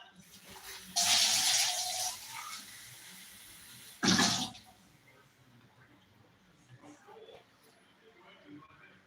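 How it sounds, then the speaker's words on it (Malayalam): Running water from a tap splashes into a vessel in two bursts, one longer then a short strong gush, with quiet background afterward. "പാത്രത്തിലേക്ക് വെള്ളം പിടിച്ചുകൊണ്ടിരിക്കുന്നു"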